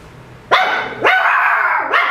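A dog barks loudly and close by, three sharp barks in quick succession with a slight whine in each, no talking between them.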